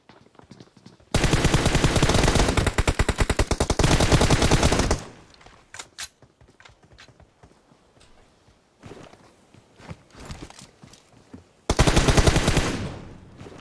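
Bursts of automatic gunfire from a battle royale video game fight on the Novo map, one long loud volley, then scattered single shots and footstep-like clicks, then another dense burst near the end.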